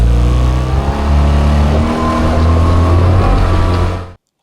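A vehicle engine revs loudly and up close, recorded on a DJI Action 5 Pro camera, a deep rumbling drone with rising and falling pitch that cuts off abruptly after about four seconds.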